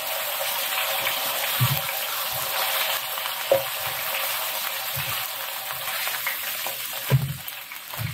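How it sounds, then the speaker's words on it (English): Vegetables frying in a pan left oily after pork chops, a continuous bright sizzle and crackle with scattered soft thuds and scrapes of stirring, two louder knocks, no talk. "I begin to take my pork chops out so I can put my vegetables in there."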